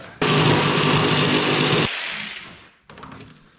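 A power saw, used while fitting out a camper van, cuts into a pre-drilled hole in a close, loud burst of about a second and a half, then drops away. A shorter, quieter second cut follows near the end.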